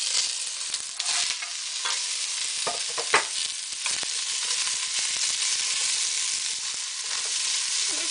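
Sliced Hungarian hot sausage sautéing in a pan gives off a bright, continuous sizzle, close and steady, with a few stirring scrapes and clicks mixed in and no talking.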